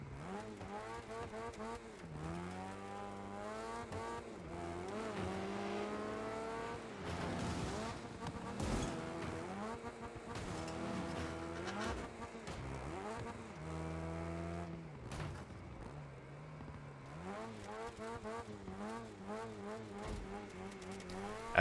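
Race cars in the video game Wreckfest 2 roar through a race, engines rising and falling in pitch through repeated gear shifts, with tire squeal and a few crunching impacts, steady and close, without talk.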